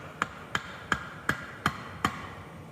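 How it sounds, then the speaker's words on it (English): Flat-head screwdriver tapped in to pry open the transmission cover of a Case 310 dozer under restoration: six sharp metallic knocks at an even pace, close and crisp, with no talking. "We have the world's best prying device, the flat-headed screwdriver."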